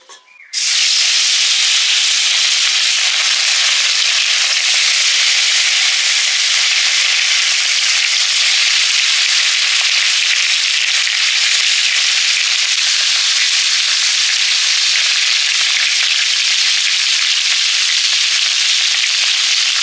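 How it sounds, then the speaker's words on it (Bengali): Fish frying in mustard oil, a loud dense sizzle that bursts in at the start and then holds steady and continuous, close up with no talking. "সর্ষের তেল, মাছ ভাজবো।"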